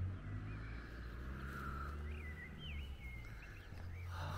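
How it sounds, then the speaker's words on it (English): Several birds call intermittently in the distance at Stiffkey in April, thin whistled and warbling notes over a low rumbling background hum. "Hear those birds."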